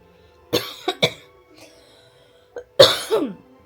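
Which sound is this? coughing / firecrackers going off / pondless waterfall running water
coughing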